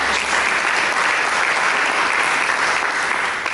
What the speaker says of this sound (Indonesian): Berikan tepuk tangan yang meriah bagi Yesus.